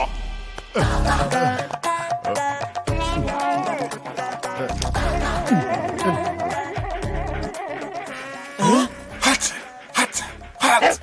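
A man turned into a dog by a curse in a comedy film scene, with a voice imitating a dog through yips, barks and whimpers, loud and close, set against music.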